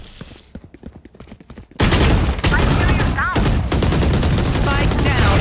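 Gunfire in Valorant, with quiet clicks and steps giving way to a loud sustained burst of rapid shots that continues densely to the end, voices audible beneath.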